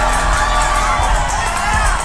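A crowd cheers and shouts in a movie scene set in New York while violent crimes play out; a dense, steady roar of many voices with whoops, loud and continuous throughout.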